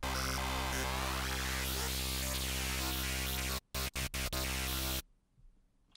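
Crunchy, crispy, fizzy Serum synth lead warmed by FM, a loud sustained bright tone with gritty upper buzz that stutters into a few choppy gaps before cutting out to near silence.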